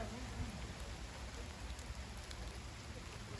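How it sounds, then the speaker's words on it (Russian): Rain falls steadily on a wooded roadside stop during a coastal bike ride near Svetlogorsk, a soft, even patter with scattered droplet ticks throughout. "вот и дождик пошел"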